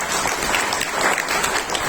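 Applause from an audience in a packed hall at a community gathering, a dense, steady wash of many hands clapping at close range throughout.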